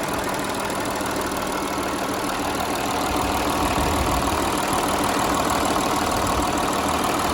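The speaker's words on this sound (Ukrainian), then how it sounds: "Так працює двигун." An Audi A6 Allroad 3.0 TDI engine idling close by with a steady, rough diesel clatter, continuous and even throughout, no voices.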